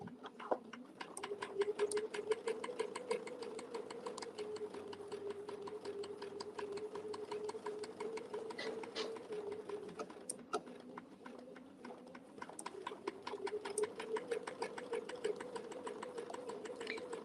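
Sewing machine stitching steadily along a stitch line while sewing a fluffy Christmas stocking design, a close, continuous whirring motor hum with rapid needle ticks, pausing briefly near the end before resuming.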